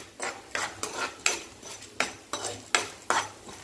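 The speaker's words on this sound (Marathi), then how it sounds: "खमंग वास येईपर्यंत आपल्याला ही डाळ भाजून घ्यायची आहे" Urad dal roasting in oil in a pan over medium heat, with about nine evenly spaced metal spatula scrapes against the pan over a faint sizzle, close and rhythmic, without speech.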